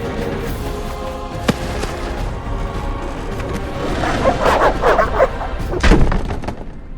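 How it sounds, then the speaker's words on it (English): Dogs barking in The Witcher video game during a night attack at a gate, several sharp barks and thuds growing louder and more frantic toward the end over a rumbling background of commotion. "The dogs will tear her apart."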